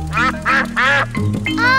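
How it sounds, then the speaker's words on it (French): Cartoon ducks quack loudly in a quick series of about five nasal honks, close and clear, with a short pause before the last one. "les canards!"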